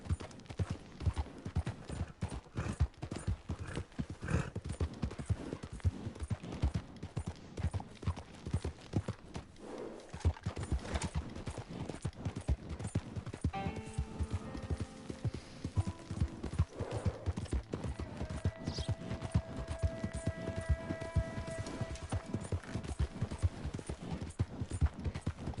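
A horse gallops in Red Dead Redemption 2, with rapid, loud clip-clop hoofbeats pounding steadily for the whole stretch and a faint musical tone rising partway through.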